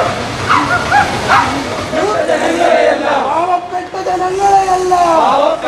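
Youth Congress protesters at a street protest in Cherpulassery over stray dog nuisance imitate dog barking with their voices, a crowd of loud overlapping bow-wows, yips and howl-like calls running continuously throughout.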